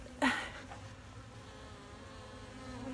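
A steady, close buzzing of bees drones throughout, with one brief louder swell near the start.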